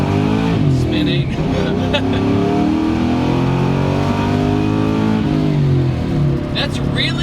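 A Mustang with a built engine running K1 Wiseco rods and JE pistons, revving loudly and close, its tone climbing and falling in a throaty, sustained drone while people talk over it.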